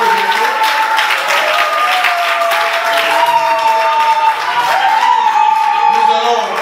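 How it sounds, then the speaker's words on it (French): Steady audience applause fills a French-language album dedication event for a gospel singer, loud continuous clapping mixed with cheering and a sustained musical tone beneath. "Je te prie d'acclamer très fort encore."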